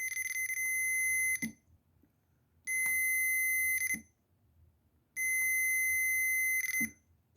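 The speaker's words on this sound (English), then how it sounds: "you'll get an audible beep when there's a connection between one of the test leads and the other" A multimeter on its continuity setting sounds three long, shrill electronic beeps, each lasting about a second and a half with short quiet gaps between them. Faint clicks of the test leads are heard near each tone.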